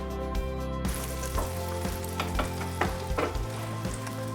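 Venison browning in a hot pan on the stovetop, a steady close sizzle broken by soft scraping and stirring knocks as the meat is moved, with no voices.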